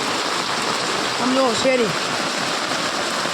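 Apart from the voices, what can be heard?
heavy rain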